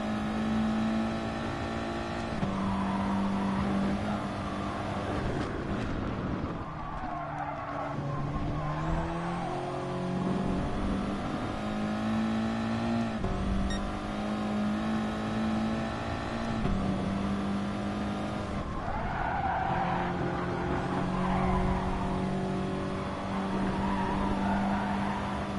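Race car engine in the GT Sport video game during a daily online race, revving hard through the gears with repeated upshifts, brief dips in pitch as each gear changes, and occasional tire squeal, loud and continuous without talk.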